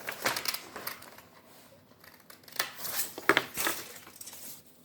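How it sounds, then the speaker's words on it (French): Scissors snipping a fish-scale shape out of colored paper, a series of close, crisp cuts and soft paper rustles in uneven bursts with short pauses between. "Allez, on découpe une écaille."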